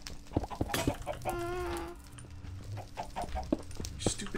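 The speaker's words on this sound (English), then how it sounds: "Stupid chicken! Stop!" Chickens cluck and squawk in the Minecraft modpack Agrarian Skies 2, a run of short, close clucks with one drawn-out squawk in the middle, set over faint game background noise.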